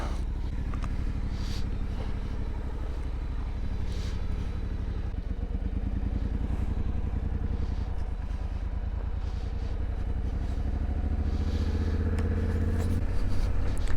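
A motorcycle rides over volcanic sand near Sunset Crater, its engine chugging steadily and fairly close throughout, with light clattering over the continuous rumble.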